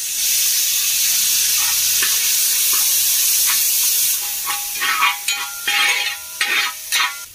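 Chopped tomatoes sizzling in a hot pan for mutton biriyani, with a strong steady hiss at first, then quieter crackling broken by bursts of stirring and scraping.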